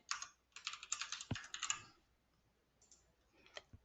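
A password is typed on a computer keyboard, brisk bursts of close, light key clicks with a short pause and a few final taps.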